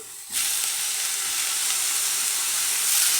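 Tomatoes drop into a hot pan of zucchini, setting off a sudden loud, steady sizzle that holds on without voices.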